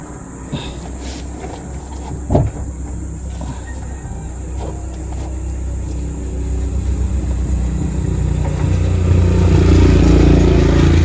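A Toyota Hilux engine with a transmission and clutch lining problem and its center bearing removed idles steadily, a continuous low rumble that grows gradually louder toward the end, with a brief clank partway through.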